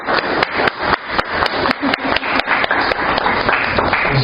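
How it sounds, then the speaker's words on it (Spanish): A church congregation claps in welcome, loud sharp claps landing in a fast, even rhythm of about four per second throughout. "Démosle ese fuerte aplauso de bienvenida a este lugar."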